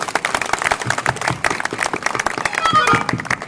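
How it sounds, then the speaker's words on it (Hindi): Audience clapping loudly at a Haryanvi cultural gathering, a dense sustained burst of applause that swells toward the end. "फिर ताली जोर की बजा दो"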